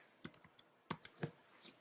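Soft clicking of keys on a computer keyboard as an amount is entered, about eight quick, quiet taps in two small clusters, heard up close in a quiet room.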